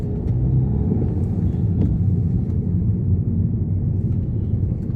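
Skoda Superb driving through city streets, a steady low engine and road rumble heard from inside the cabin, with faint clicks and no talking.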